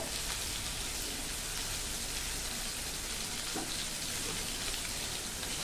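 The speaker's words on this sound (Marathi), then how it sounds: "त्याच्यामध्ये गिलक्याच्या फोडी मी फोडणीला घातल्या आहेत" Chunks of ridge gourd fry in a cumin and turmeric tempering with a dense, continuous sizzle, rain-like and close, holding steady throughout with no speech.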